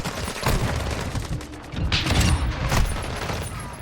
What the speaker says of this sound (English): We're getting hit hard. Hostile called in an airstrike.